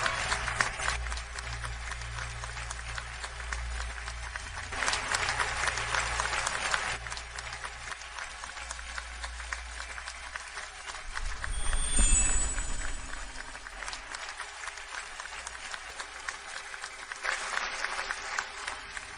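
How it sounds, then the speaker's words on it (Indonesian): Wedding guests applaud a newly married couple with sustained clapping that swells and eases over a long stretch, broken by a brief louder surge and some background noise. "Sekarang beri tepuk tangan meriah untuk menyambut pasangan baru."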